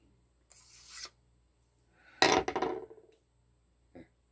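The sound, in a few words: knife blade being sharpened with a handheld sharpener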